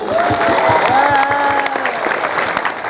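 Audience clapping steadily at a Sundanese Islamic sermon gathering, a dense continuous crowd applause that stays loud throughout, with a faint voice and some cheering mixed in underneath.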